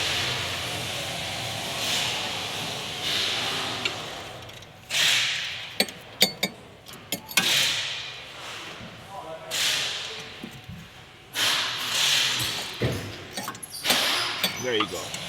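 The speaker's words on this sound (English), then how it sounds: "I'm using my ratchet here. We're gonna break it free." Ratchet working caliper bolts loose on the rear brakes of a 2018 Golf GTI, a series of sharp clicking and creaking bursts at close range, mixed with handling noise and brief hisses.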